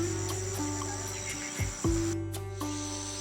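Honeybees foraging in a highland sunflower field at Muttukade give a steady, faint hum, with sharp chirping clicks of insects close by and no voices.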